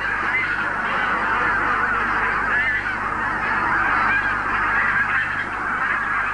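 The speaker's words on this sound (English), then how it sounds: "The wild geese have drawn out their stopover as long as possible." A large flock of wild geese honks continuously in a dense, overlapping chorus, loud and steady throughout as the birds linger at frozen water holes in a snowy, wintry forest.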